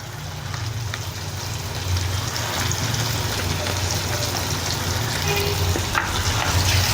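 Mustard and poppy seed paste frying in a pan for a hilish and eggplant dish gives a steady, dense sizzle that stays loud and even throughout, with no talk.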